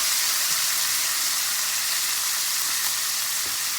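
Onion, carrots, ginger and garlic paste sizzle and fry in a hot pan, a steady, loud, close hiss that holds without a break and has no voice over it.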